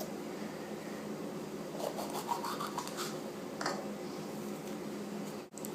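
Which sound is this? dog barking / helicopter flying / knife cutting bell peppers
knife cutting bell peppers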